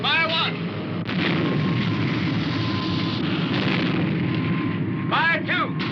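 A cannon fires as a sound effect from the Supercar television series, a loud sustained roaring blast with warbling electronic whines swooping at the start and again near the end.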